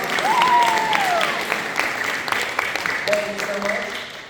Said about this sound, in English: Go ahead and give them applause.